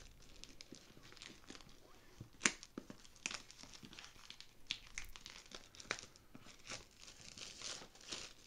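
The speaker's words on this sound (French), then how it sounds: "on va enlever le plastique et ouvrir la boîte" Plastic wrap crinkling and tearing as it is pulled off a Cooler Master B600 V2 power supply box, a close, quiet run of crackles with a few sharper rips.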